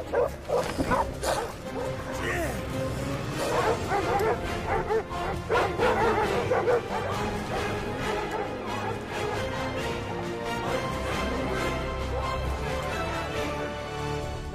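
In a Jackie Chan film scene, a dog yips, barks and whimpers amid a busy, loud soundtrack with steady background noise and some voices mixed in.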